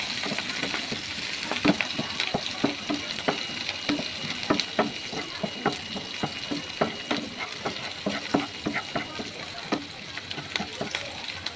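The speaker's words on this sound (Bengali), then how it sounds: "একটু শুকনা মরিচ, একটু কাঁচা মরিচ দিয়ে ভালো করে ভেজে নিব" Dried and green chillies fry in hot oil in a pan for a Bengali kalmi greens dish, a steady close sizzle punctuated by regular scraping clicks of stirring.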